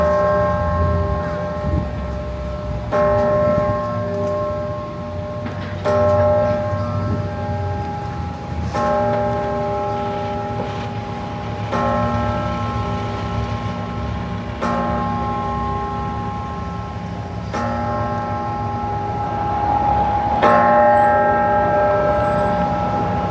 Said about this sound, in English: in 1876, they put in this bell. And it's called the Centennial Bell.